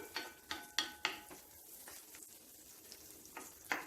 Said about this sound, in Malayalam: ഉള്ളി നല്ലതുപോലെ ഒന്ന് മൊരിയിച്ചെടുക്കണം